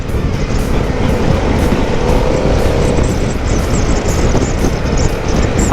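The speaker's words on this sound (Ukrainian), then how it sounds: "ну мотик обороти закидує дуже жваво" A Harley-Davidson Pan America motorcycle engine roars loudly and close by, holding high revs steadily with rushing wind noise.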